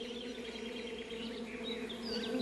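Steady, close buzzing of honey bees, a continuous drone with individual insects passing nearby, no voices.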